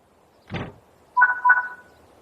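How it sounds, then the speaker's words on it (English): In the Train Sim World 4 video game, a thud followed by a two-tone electronic chime and a second chime as the Flying Scotsman's passenger doors close, clean and synthetic-sounding. "Close the passenger doors."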